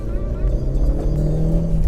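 A Vauxhall Corsa VXR's turbocharged engine pulls hard under acceleration, a steady loud low drone with a rising tone, with voices talking over it.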